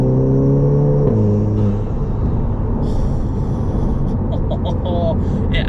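Close, loud engine revving from a VW Golf GTI with a Revo open air intake: a sustained rumble with rising and falling pitch across several seconds, a few short whooshing intake bursts near the end.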